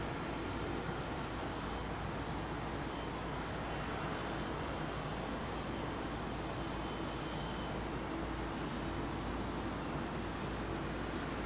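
Steady, loud roar of a big twin-engine jet airliner on a runway, a broad continuous rumble that holds level throughout without voices.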